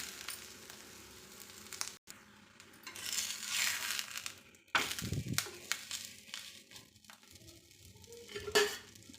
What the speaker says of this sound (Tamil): கல் நல்லா நம்மளுக்கு சூடேறிச்சு. பட்டர் ஷீட்லேருந்து பிரிச்சுட்டு தவா மேலே சேர்த்திடலாம்.